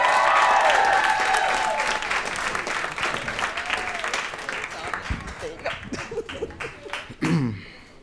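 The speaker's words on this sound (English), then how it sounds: "I want y'all to start clapping right now for Al Hassan Umar." An audience applauds at an event for young immigrants in New York, loud clapping at first that thins and fades while a voice speaks over the dwindling claps.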